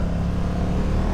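A 2022 Honda NT1100 with its parallel-twin engine runs in a brief burst of low, steady engine drone with some road rumble and no talk.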